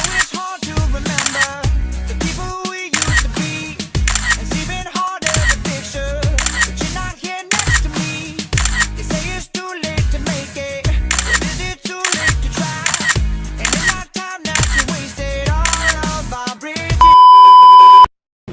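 A camera shutter clicks repeatedly as a photographer takes photos at a child's birthday celebration, sharp clicks in a quick steady rhythm, close and loud, ending with a sustained electronic beep.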